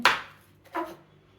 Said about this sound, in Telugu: ఇప్పుడు ఈ ఈ పచ్చిమిరపకాయలు ఈ ఎడ్జెస్ కట్ చేసేద్దాం